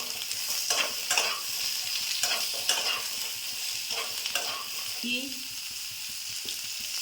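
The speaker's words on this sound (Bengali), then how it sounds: "এবার ডাঁটাগুলো দিয়ে দিলাম। ডাঁটাগুলো দিয়ে 2 মিনিট নেড়ে নেব।" Vegetable stalks being stir-fried with potatoes in a pan, a constant hiss of frying under repeated scraping strokes of a spatula, close and fairly loud throughout.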